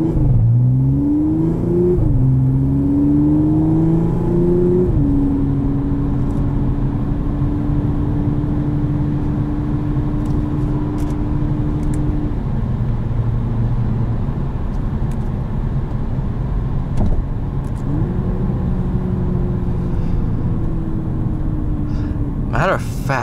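A 2013 Audi S5 with a supercharged V6 and automatic gearbox accelerates from inside the cabin, engine note rising through the gears and then settling into a steady drone as someone talks over it.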